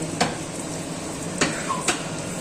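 Puri is pressed down in very hot oil, giving a steady close sizzle broken by three sharp clicks of a utensil against the pan.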